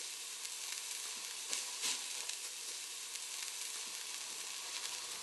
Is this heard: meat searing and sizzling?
yes